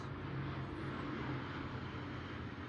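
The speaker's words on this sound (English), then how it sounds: "So many planes." Planes fly overhead, giving a steady, broad low roar that holds evenly throughout with no voices.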